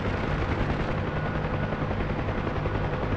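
Helicopter in a Vietnam war video game with door gunners firing machine guns, a dense, loud, unbroken roar of rotor thump blended with rapid gunfire filling the whole moment.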